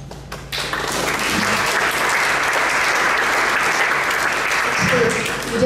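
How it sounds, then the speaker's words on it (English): An audience claps after a poem at an evening of flamenco and poetry, a dense, sustained round of applause from a sizable crowd that builds quickly and holds steady throughout. "So you don't have to clap after each poem."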